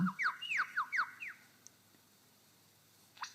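A lyrebird gives its own call, a quick series of about six loud, ringing, downward-sweeping whistled notes, followed by quiet and one more short note near the end.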